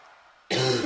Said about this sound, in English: don't mind the coughing